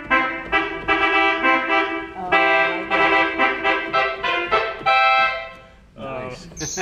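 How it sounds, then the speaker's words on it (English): A battle horn stop on a pipe organ sounds as a series of loud, brassy, reedy blasts, about a dozen short chords in a steady rhythm, then a brief softer passage near the end. "I'm trying to figure out the battle horn."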